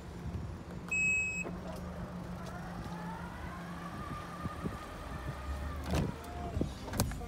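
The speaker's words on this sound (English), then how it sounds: "There are rear electric windows" An electric window in a Mazda CX-5 2.0 Sport Nav+ gives a steady motor whir for a few seconds and then stops, with a couple of small clicks in a quiet cabin and no speech.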